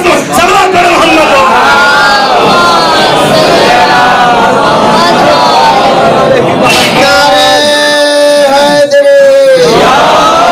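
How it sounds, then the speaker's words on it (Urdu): A mosque congregation at a Shia Jama Masjid in Juhi, gathered for a majlis, loudly recites salawat in unison. Many voices swell together in a sustained, roaring chant, close and full throughout. "صلوات پڑھو محمد"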